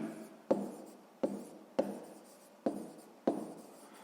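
A math answer written by hand in a sixth-grade exercise, a few distinct pen or chalk strokes in an irregular rhythm, close and quiet with no talk.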